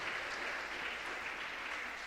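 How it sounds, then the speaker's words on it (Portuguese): Church congregation clapping together in praise, a dense steady wash of applause filling the whole stretch with no talk over it. "Vamos bater mais palmas para louvar o santo nome de Jesus."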